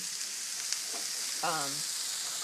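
Cut chicken pieces for a cheesesteak searing in a pan over high heat, a steady close sizzle with a faint brief voice-like tone partway through.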